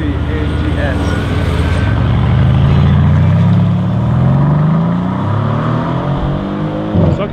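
A Mercedes C63 AMG S drives past loudly on a street, its engine note rising and then falling as it nears and goes by, with a voice talking over it.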